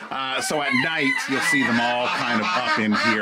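A rooster crows nearby, its drawn-out call rising and falling while a person talks over it; a second crow follows.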